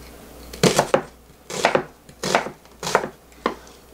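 An onion is cut on a board in five distinct chopping strokes at an even, unhurried pace, close and clear with no talk.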